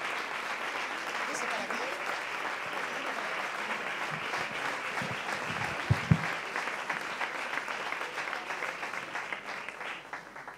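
Sustained applause from an audience greeting the performers Helen de Quiroga and Tommy Álvarez at an evening show, a steady roar of clapping that holds throughout with a few louder thumps near the middle.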